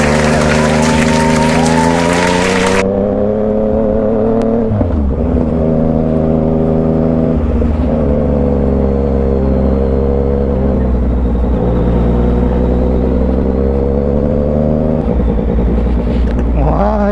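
A motorcycle rides along a scenic road in Balete, Batangas, its engine a steady, loud drone with shifting revs and a brief gust of wind noise at the start.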